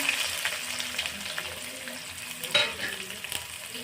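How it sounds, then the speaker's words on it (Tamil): Chopped small onions fry in hot coconut oil for a prawn and ridge gourd kootu, producing a steady close sizzle with light scraping and clinks of stirring. "ஆயில் ஹீட் ஆகிடுச்சு. இப்போ இதில் நம்ம வெட்டி வச்ச சின்ன வெங்காயத்தை ஆட் பண்ணிக்கலாம்."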